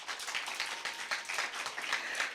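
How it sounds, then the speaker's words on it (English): Faint, steady applause from an audience after a school debate speech on healthy cafeteria food, a soft continuous patter of many hands at a distance. "Round of applause."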